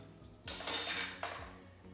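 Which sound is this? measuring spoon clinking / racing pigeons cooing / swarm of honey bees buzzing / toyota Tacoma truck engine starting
measuring spoon clinking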